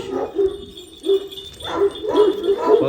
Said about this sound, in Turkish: Bakın bu Anadolu çoban köpeği Rüzgar.